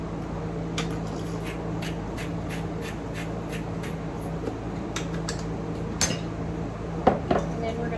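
Potato salad with parsley, seasoning, pepper and salt being mixed in a bowl, with soft scraping and light clinks of a utensil over a steady background hum, fairly close, plus a couple of sharper knocks near the end.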